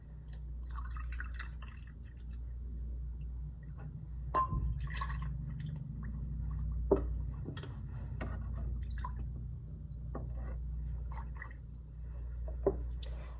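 Milk is poured into pudding mix in a small bowl, a quiet liquid trickle with scattered drips and small splashes, heard close and alone over a low background hum.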